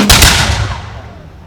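A volley of muskets fired on command at an American Independence reenactment festival: one loud, booming report at the start that rolls and decays over a second or so, with no talk over it.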